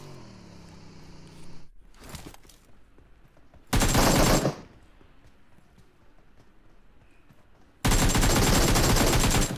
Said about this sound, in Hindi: मुझे कुछ फायरिंग की आवाज़ आती है, गन की आवाज़ आती है, गोलियाँ चल रही होती हैं